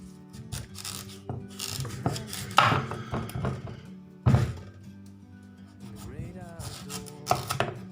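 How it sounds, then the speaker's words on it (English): A knife chops through pumpkin on a board in a kitchen, producing a series of close, irregular thunks and crunchy cuts with brief pauses between them and no speech. "So let's just chop this up."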